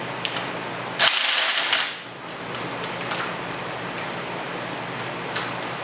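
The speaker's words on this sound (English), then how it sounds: "We're just going to use the impact gun just to snug it on there real quick" An impact gun snugs the rear sprocket nut onto the splines of a 2007 V-Strom 650 motorcycle during a chain and sprocket replacement, giving one loud, close rattling burst of just under a second, followed by quiet workshop ambience.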